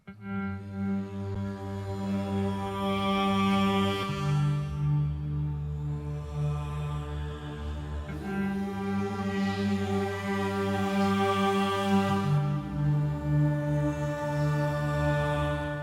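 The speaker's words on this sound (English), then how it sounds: "So I created my own custom pad" Sustained, warm synth pad chords with soft tuned percussion notes ringing over them, steady and full, no voices.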